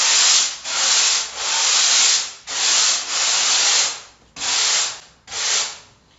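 Long rasping strokes of sanding along the rail of a surfboard, seven steady back-and-forth passes with short gaps between them, close and loud.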